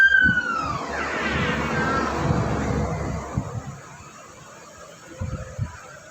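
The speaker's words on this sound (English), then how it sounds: "Ambulance." An ambulance siren wails, sweeping down in pitch at the start, then fades under a dull rumble with a few soft knocks later on.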